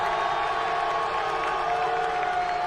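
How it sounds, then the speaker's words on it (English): Arena crowd at UFC 268 cheering for Kamaru Usman, a dense, steady wash of applause and shouting heard from within the venue, with some whoops rising above the roar. "I think Usman got the better cheer."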